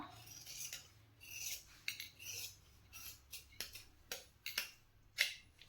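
Scissors snipping through blouse fabric during tailoring, a series of short crisp cuts with uneven spacing, close and fairly quiet, with no talking.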